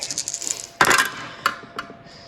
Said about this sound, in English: And right here are our dice. And we'll see what we roll.